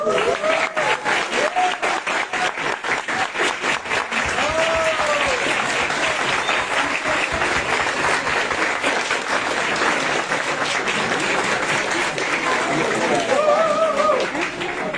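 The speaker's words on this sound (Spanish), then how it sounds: "les voy a pedir un fuertísimo aplauso para los 4." An audience at an academic panel discussion claps for the departing guests, a dense, sustained round of applause lasting the whole stretch, with a few faint voices and cheers mixed in.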